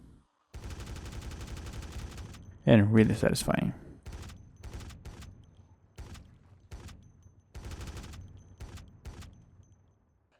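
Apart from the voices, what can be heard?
loud gunfire from a heavy gun in video game Project Zomboid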